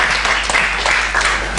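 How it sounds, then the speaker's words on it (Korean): A church congregation applauds to welcome a guest speaker, a steady wash of clapping from many hands across the room, fairly loud and continuous with no talk over it. "여러분께서 큰 박수로 한번 환영해 주시면 감사하겠습니다"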